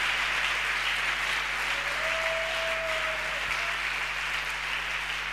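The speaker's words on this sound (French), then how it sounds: "If you love him, the thunders of hand clap." A church congregation claps loudly and steadily, a dense, continuous wash of hands that fills the whole stretch, with a faint voice or tone briefly audible beneath it.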